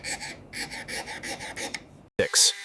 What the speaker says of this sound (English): Before brushing the case, we need to deburr all the edges.